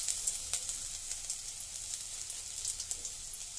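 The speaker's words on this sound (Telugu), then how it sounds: "ఇది వేసుకోవడం వల్ల ఆయిల్ కొంచెం టేస్టీగా మారుతుంది అరోమా ఫ్రెగ్రెన్స్ ఉంది కదా అది వస్తుంది అల్లం ముక్కలు వేసుకున్నాం" Small pieces of ginger fry in hot oil, a soft, continuous sizzle with faint crackles and pops, fairly quiet and heard alone without talking.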